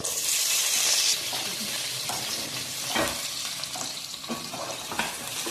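Onions for a vegetable biryani frying in hot oil, giving a continuous close sizzle with scattered stirring and scraping knocks, brightest and loudest near the start, with no voices.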